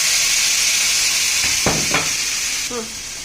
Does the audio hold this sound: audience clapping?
no